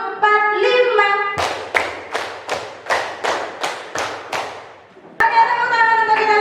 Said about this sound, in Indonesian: Oke, tepuk tangan untuk kita semua Bapak Ibu.